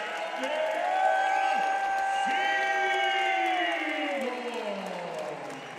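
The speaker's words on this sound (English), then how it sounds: "Big round of applause" A big arena crowd at a college wrestling championship final cheers, whoops and applauds loudly and steadily for a winning wrestler, a continuous roar of massed voices and clapping that swells and then gradually settles.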